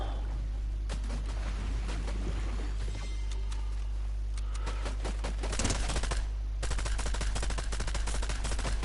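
Shotgun blasts ring out in a Fortnite match: several sharp, loud shots come in irregular bursts over a steady low background hum, with rapid clattering in between.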